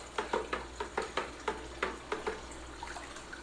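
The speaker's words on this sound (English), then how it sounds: "Gonna give that a mix until it's completely dissolved." Spoon stirring hydroponic nutrient salts into a container of water until dissolved, a series of close, regular clinks and swishes roughly every third of a second, easing off toward the end.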